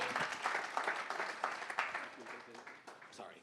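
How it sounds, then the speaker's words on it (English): An audience at a San Francisco tech demo night applauds a startup demo called Crucible: a steady, fairly distant round of clapping that tapers slightly toward the end, with voices talking over it. "Round of applause for Crucible"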